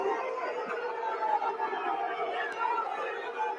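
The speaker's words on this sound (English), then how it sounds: "The sound of booing echoing around the Den before the match against Derby County" Millwall football fans booing at the Den stadium before the match against Derby County, a dense sustained crowd roar with a constant droning quality, steady and fairly distant throughout.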